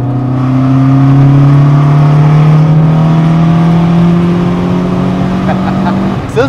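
A Mk2 Vauxhall Cavalier sleeper with a red top engine revs up close and loud, its pitch climbing steadily over several seconds before easing off.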